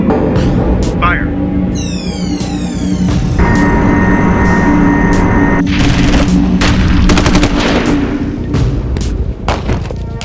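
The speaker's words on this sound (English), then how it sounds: "Dana, launch cruise missile 2-3." A cruise missile launch and explosion from a live-action Full Metal Panic battle scene: loud, dense bursts of gunfire, booms and rapid impacts over a rising synthetic whine, with voices shouting throughout.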